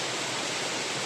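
Chympe Waterfall in Meghalaya roars as a steady, loud, broadband wash of falling water with no voices.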